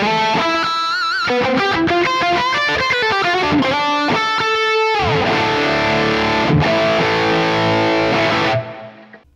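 Electric guitar with an 80s rock tone from a Neural DSP Quad Cortex running parallel cabs, loud and distorted, playing fast picked notes and then ringing chords that fade out at the end, no talking.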